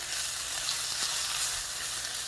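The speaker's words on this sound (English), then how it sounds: "I'm gonna give this a nice stir and really just let it start to cook down and simmer for about 15 minutes or so" Sweet potato shakshuka simmering in a pan, a steady soft sizzle and bubbling hiss running continuously, close and moderately quiet with no voices.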